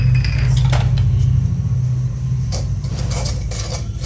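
Semolina dry-roasting in a hot kadhai: a utensil scrapes and clinks against the pan now and then over a steady low hum, with no one speaking.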